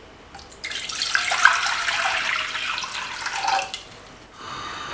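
Water runs from a tap into a vessel in a home kitchen while a kashayam herbal remedy is being made, a steady splashing flow that starts, holds for a few seconds, then stops.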